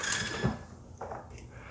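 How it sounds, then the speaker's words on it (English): A shotshell reloading press with a sizing ring knocks out the primer from a 12-gauge Browning Dove and Clay hull, giving a brief mechanical clunk followed by a second lighter click close by. "Knock out our primer."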